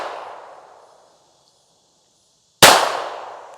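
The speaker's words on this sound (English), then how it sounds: "The gun is shooting slightly low, slightly left." A single sharp pistol shot from a Tisas Raider, loud and close, bursting out after a fading tail of an earlier report and a stretch of near silence.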